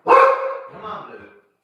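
Single loud, close dog bark, a sharp burst that trails off over about a second, heard alone with no talk.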